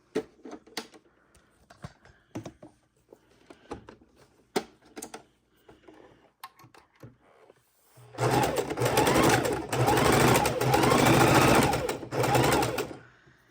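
Sewing machine stitching quilt squares together for a queen-size panel quilt, starting after some light handling clicks and taps, then running loud and steady for about five seconds before stopping.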